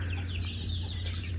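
Chicks in a small netted pen on a rural farm, about eighty of them, chirping in a continuous high twittering chorus over a steady low hum.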